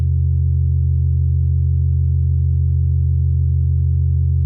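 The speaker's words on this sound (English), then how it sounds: "The sine wave is filtered, so we have quite a big room to saturate until we start clearly perceiving it." A filtered sine wave drone with saturation hums as a steady, loud low tone with stacked harmonic overtones, unchanging and alone for the whole stretch.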